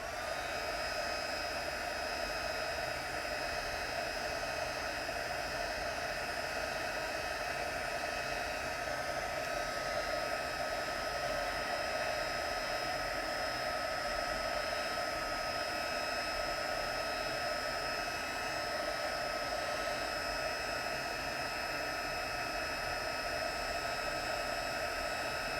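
A heat tool blows continuously over embossing powder, a steady loud hiss and whirr with a constant motor tone that holds unchanged for the whole stretch, with no voices over it.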